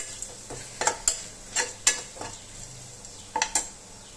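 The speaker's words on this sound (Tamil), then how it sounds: "தேங்காய் துருவல் கொஞ்சம் சேர்த்துக்கலாம். சேர்த்துட்டு நல்லா இதில் வறுத்து விட்டுக்கலாம்." Urad dal, dried chillies and grated coconut frying in a pan, heard as a quiet sizzle broken by a few sharp spoon scrapes and taps, close and without speech.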